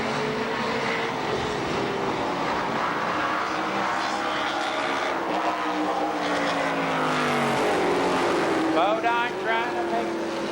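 Race cars at Columbus Motor Speedway drone past in a whining, shifting engine roar that rises and falls with Doppler sweeps, heard under a commentator's running talk.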